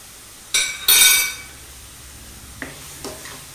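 Onions frying in a pan are stirred with a spoon, giving two sharp metallic scrapes and clinks near the start, then softer taps over a faint sizzle.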